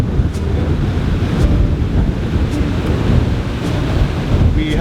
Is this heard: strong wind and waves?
yes